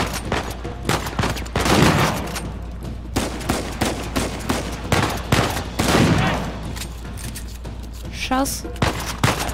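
Rapid gunfire bursts from the video game Uncharted 4, loud and repeated across the whole stretch in dense volleys, with a brief spoken word in Russian partway through.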